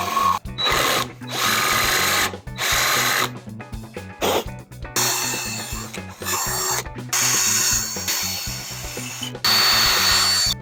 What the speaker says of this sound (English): then I'm gonna come through with my long drill I just bought, and I'm gonna finish the hole up